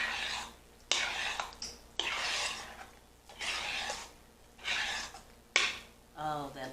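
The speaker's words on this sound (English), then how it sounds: "We're going to stir it together." Cooked macaroni being stirred into a pimento cheese sauce in a bowl: a string of wet, squelching stirring strokes in separate bursts with short pauses between them, fairly close and moderately quiet, with no one speaking over them.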